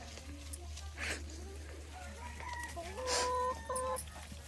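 Free-range village chickens cluck and call in short, scattered bursts at moderate distance, over a low steady hum, with faint voices in the background.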